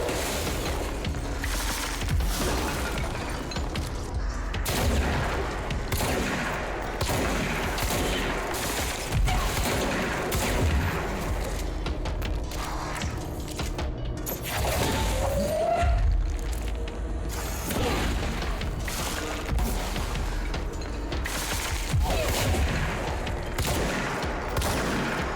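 Service Weapon gunfire in the video game Control, a dense, continuous stream of rapid shots and booming impacts lasting throughout, loud and close with no pauses.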